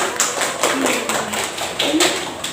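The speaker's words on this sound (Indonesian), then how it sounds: "Tepuk tangannya kayak heboh." A classroom audience claps in a quick, uneven burst of hand claps, with voices and cheering chatter mixed in over the applause.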